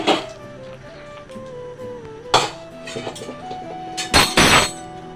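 A cooking pot for egg biryani is set down on a stove with a few metallic clanks and thuds, then a louder clattering burst near the end, close and sharp.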